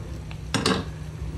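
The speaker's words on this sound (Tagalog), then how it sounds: "Ngayon, takpan natin ulit." A lid settles onto a cooking pot of sautéed sponge gourd, string beans and mushrooms, two quick metallic clinks standing out over a steady background hiss.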